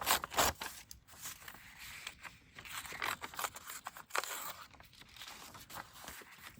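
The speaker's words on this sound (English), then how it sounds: "maybe I should tear this one" Paper being torn by hand for a junk journal, a series of short ripping and crinkling bursts close up, irregular in rhythm, with faint handling noises between tears and no talk.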